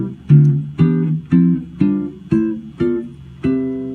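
Notes of a musical scale played one at a time on a pitched instrument, eight evenly spaced plucked or struck tones with rich harmonics, each ringing briefly before the next, close and clear with no voices.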